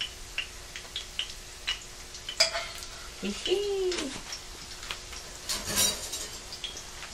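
A cauliflower fritter sizzles in a pan with scattered ticks and scrapes as it is turned over, close and fairly quiet, with a brief tonal clatter midway.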